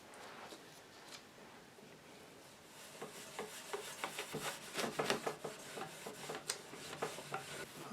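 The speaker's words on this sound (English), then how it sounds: "put some wax on the cabinet using the Howard Feed and Wax product, wood polish and conditioner" Howard Feed and Wax wood polish and conditioner rubbed by hand onto a wooden radio cabinet during restoration, making soft, repeated scrubbing strokes that grow busier and a little louder partway through, with no talking.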